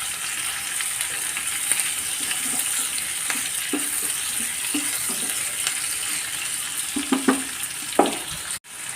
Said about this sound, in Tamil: நல்லா ப்ரான் வந்து இதில் நல்லா வதக்கிடுவோம்.